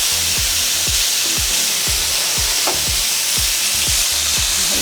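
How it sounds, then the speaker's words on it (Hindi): Chicken pieces lightly frying in a pan for creamy Afghani chicken, a loud continuous sizzle close up with regular soft thumps and scrapes of stirring underneath, no voices. "इसको हल्का सा फ्राई करना है अपनी चिकन को"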